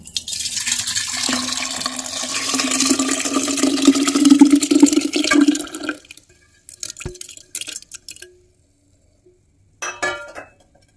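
Liquid is poured into a dried glass bottle, making a close, steady gurgling stream for several seconds. It then stops and gives way to a few scattered clinks and drips of glass and liquid.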